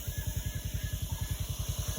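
A motorcycle engine idles close by, a steady, rapid chugging pulse of even beats that runs throughout with no talking.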